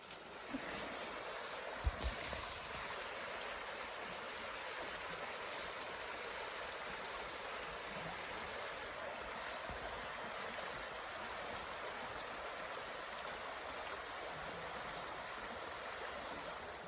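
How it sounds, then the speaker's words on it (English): Steady broadband rush of running water from a stream in Scotland, constant and fairly near with no voices, holding an even level throughout with only a couple of faint knocks. "who doesn't love the sound of running water like that?"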